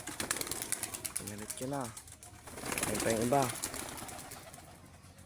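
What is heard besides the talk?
pigeons cooing and flapping at coop door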